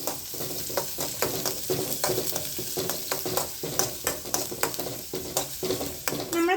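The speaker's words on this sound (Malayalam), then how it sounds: "നെയ്യിൽ ഈ വെളുത്തുള്ളിയും ചെറിയ ഉള്ളിയും നന്നായിട്ടൊന്ന് മൂപ്പിച്ചെടുക്കാം" Garlic and small shallots frying in ghee in a pan for ghee pathiri, a steady close sizzle with frequent stirring scrapes and clinks of the utensil throughout, no talk.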